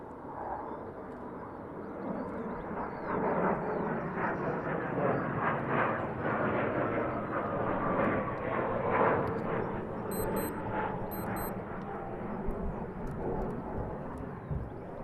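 F-15 jets coming back to RAF Lakenheath for landing give a steady, broad jet roar that holds loud across the whole stretch, with no speech over it.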